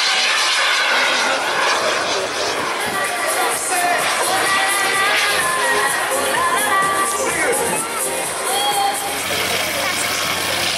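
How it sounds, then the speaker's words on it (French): A loud, continuous airplane engine roar during a go-around at an air show, with crowd noise and voices mixed underneath throughout. "L'avion est en configuration atterrissage avec vraisemblablement remise des gaz"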